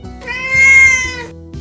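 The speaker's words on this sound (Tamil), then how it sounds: "Gate meow. கேட்னா பூனை," A cat gives a single clear meow, close and fairly loud. It rises and then fades within about a second, with nothing else heard.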